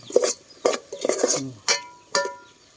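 Minced pork larb, with blood mixed in, stir-fried in a pan, with spatula scrapes and clatters against the pan coming in short bursts, close and moderately loud.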